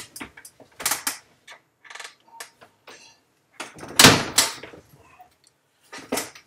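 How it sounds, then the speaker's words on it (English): A door is pushed shut indoors, giving a few close clunks and scraping knocks with a sharp latch-like bang in the middle, all heard alone without talk. "Just hold on 1 second while I shut the door."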